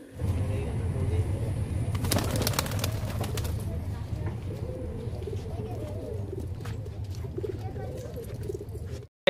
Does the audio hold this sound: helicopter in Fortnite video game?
no